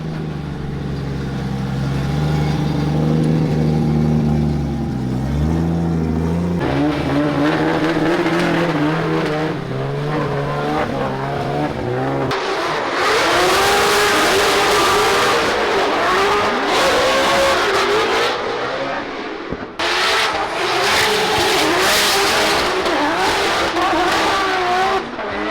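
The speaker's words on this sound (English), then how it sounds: "a GR86 drift car" A Toyota GR86 drift car at a Formula Drift event, its engine revving and screaming through gear changes while tires squeal in long slides, loud and close, rising and falling continuously across the run.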